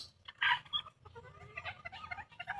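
Mixed-breed chickens, a cross of Sirama and bantam, clucking in a yard with several overlapping calls, one louder close burst early and softer chatter continuing throughout.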